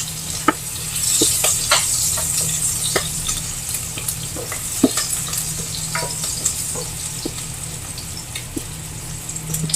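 Garlic, onion and tomato sauté in a pot with a steady close sizzle, broken by scattered crackles and the scrape of stirring.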